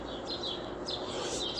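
Sparrows chirping outdoors on a summer morning, a few faint, brief high chirps over a steady background hiss.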